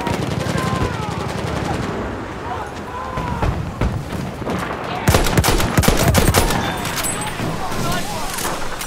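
Machine gun fire crackles through a Battlefield 1 Conquest match at Cape Helles, with distant scattered shots at first, then a louder burst of rapid fire at close range, mixed with battlefield ambience and occasional shouted voices.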